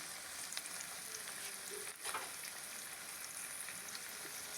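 Bitter gourd leaves fry in a pan with a steady, close crackling sizzle throughout, broken by a brief soft stirring scrape midway.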